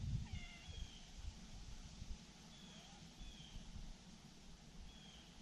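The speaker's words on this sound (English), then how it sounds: "There's my cat up a tree." A cat meows from up in a tree outdoors, a few short thin calls spread across the stretch, fairly faint and distant over steady rustling ambience.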